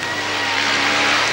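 An offroad motocross motorcycle engine racing, a loud sustained high-revving buzz with no voices.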